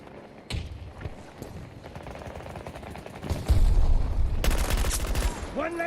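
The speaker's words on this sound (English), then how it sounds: "Grenade out!" Gunfire and a grenade blast in a first-person shooter game: dense rapid shots and thuds run throughout, swelling into a louder, heavier burst of explosion and fire in the second half, with voice chat faintly underneath.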